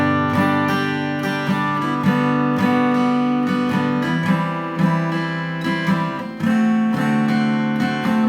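A guitar plays the verse chord progression of a song, steady strummed chords ringing continuously, close and clear, with no talking.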